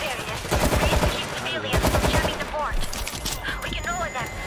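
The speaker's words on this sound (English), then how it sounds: "Stationary machine gun." A stationary mounted machine gun rattles out rapid, loud bursts in the zombie shooter World War Z, set in Tokyo, with players talking over the sustained firing.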